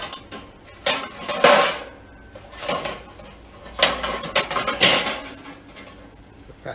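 Metal dish and fat tray clanking into place beneath a turkey breast in a Weber kettle grill, several short scattered knocks and rattles close by, with no talk.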